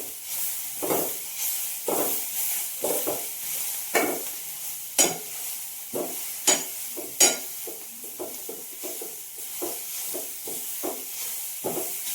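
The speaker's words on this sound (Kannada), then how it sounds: "ಈಗ ಇದು ಸ್ವಲ್ಪ ಚೆನ್ನಾಗಿ ಫ್ರೈ ಆಗ್ತಾ ಇದೆ." A masala mixture for wheat dosa fries in a pan with a constant sizzle, broken by repeated scraping and stirring strokes and a few sharp clinks of a spoon against the pan, close and clear, with no talk.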